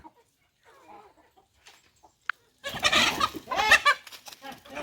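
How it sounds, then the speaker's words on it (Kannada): A hen clucks and squawks agitatedly up close, in a short loud burst after a few quiet seconds of faint rustling, as it pecks to drive others away in a village yard. "ಹೆಂಗೆ ಕಚ್ಚುತ್ತೆ ಕೋಳಿ, ಯಾವನ್ನು ಬರೋಕ್ಕೆ ಬಿಡಲ್ಲ ನೋಡಿ"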